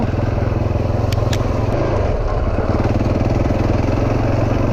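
A KTM adventure motorcycle engine runs steadily while riding a riverside trail, a close, loud, rhythmic mid-pitched drone throughout, with no talking.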